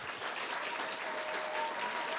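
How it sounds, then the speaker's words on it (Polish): A theatre audience applauds the instructors of a children's stage production, a dense, continuous roll of many hands clapping at an even, fairly quiet level. "Wielkie brawa dla nich."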